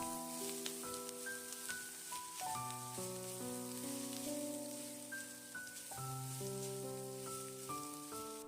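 Chopped radish stir-fried in a wok makes a steady, soft sizzling hiss that runs beneath a bright melodic music track.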